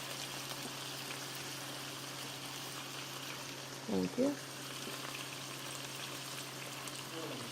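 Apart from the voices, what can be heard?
water added to pan with browned steak strips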